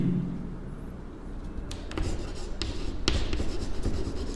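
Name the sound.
writing by hand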